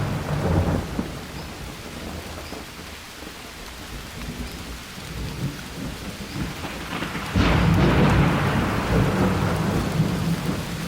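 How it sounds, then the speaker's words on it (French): A thunderstorm rolls over, with steady heavy rain hissing on surfaces and low rumbles of thunder, building to a louder, closer crack and roll of thunder near the end, with no voices. "j'avais été surpris par l'orage"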